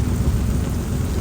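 Heavy rain pours at Manora beach in Karachi by the sea, a dense, steady, close roar of water with no voices.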